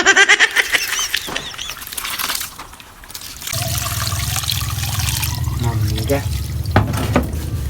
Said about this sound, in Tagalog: dayon butangan nimo og tubig